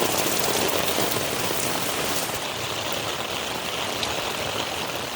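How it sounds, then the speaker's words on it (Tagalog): Heavy rain pours steadily and loudly, a dense unbroken hiss of drops with no voices. "Lakas ng ulan no."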